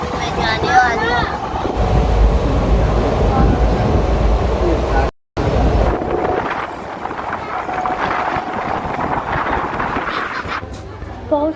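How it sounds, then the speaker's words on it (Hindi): A train pulls away from a station, a continuous low rumble and rolling clatter mixed with wind buffeting the microphone, with a brief cut midway and people talking over it. "अब ट्रेन जाने लगी है"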